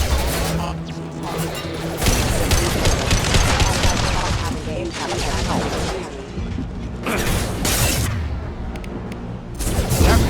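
Sustained gunfire in a Mass Effect 2 combat battle, with dense rapid bursts and mechanical clatter overlapping continuously, loud and close, joined by occasional voices.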